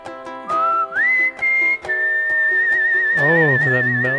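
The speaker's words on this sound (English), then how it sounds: "That is a high-pitched whistle." A high, clear whistled melody from a song, bright sustained whistling notes with slides between pitches, set against rhythmic music and later a singing voice.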